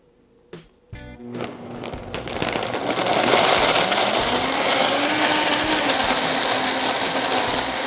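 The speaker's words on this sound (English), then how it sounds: "I'm gonna blend it for about a minute because there's spinach in there." A classic Vitamix blender blends a spinach drink with ice: a few clunks and a short start, then the motor ramps up into a loud, steady whirring roar that holds to the end.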